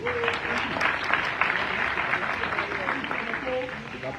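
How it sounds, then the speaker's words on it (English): Audience applause at a Liberian opposition parties' emergency meeting, given for the chairman: steady, dense clapping throughout at moderate loudness, with crowd voices mixed in. "Please, can we give the chairman another hand of applause?"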